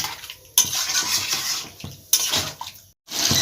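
Chicken with spices is stir-fried in a pan, heard as a close, loud sizzling hiss broken up by scraping and clattering from a utensil, with brief gaps.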